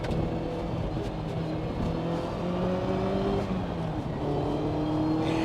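A Ferrari 308 GTB's engine hums and climbs through the revs from inside the car as it drives, a steady close drone with rising tones as it accelerates, and no talking over it.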